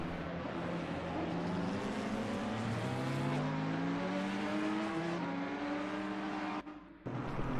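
A GT race car at Spa in a sim racing game revs through rising and falling engine harmonics as it spins, a continuous loud engine note that cuts off abruptly near the end.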